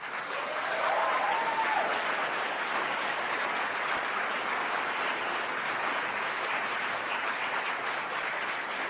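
Broad, sustained applause fills a legislative chamber during a Montana State of the State address, dense and even for the whole stretch, with a brief voice heard early on.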